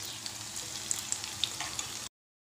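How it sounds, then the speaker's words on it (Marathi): Soya cheese cutlets shallow-frying in oil in a pan give off a steady, close sizzle with small crackling pops. The sound cuts off abruptly near the end. "आता मी दुसरी बॅच पण तळून घेते"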